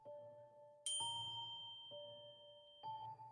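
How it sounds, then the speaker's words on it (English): Faint bell tones ring out, a soft ding followed by a few more strikes at steady intervals, each leaving a long sustained hum. "I awoke in my parents' room to the faint sound of a bell."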